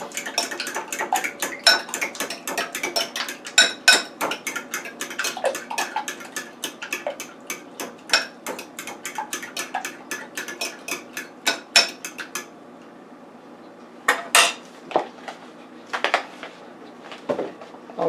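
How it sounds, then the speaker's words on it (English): Quiche filling with milk and half-and-half being whisked in a bowl, with rapid clinking strokes of utensil on the bowl, a pause, then a few more scattered bursts of clattering. "now let's mix that up"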